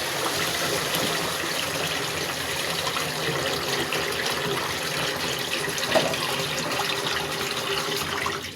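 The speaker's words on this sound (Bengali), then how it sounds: "পানি দিয়ে দিচ্ছি।" Water pours steadily into a cooking pan of potato and eggplant with dried fish, a continuous close gushing splash with little change throughout and no speech.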